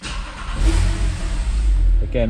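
A Porsche 911 Targa 4S (997) engine idles with a low, steady rumble close by, and a voice speaks briefly near the end.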